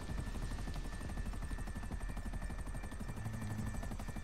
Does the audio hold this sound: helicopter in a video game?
yes